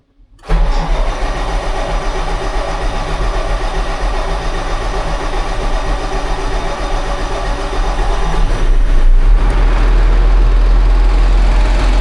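A Case IH Magnum 310 tractor engine cranks briefly and catches, then settles into a loud, steady diesel run close by, growing slightly stronger toward the end.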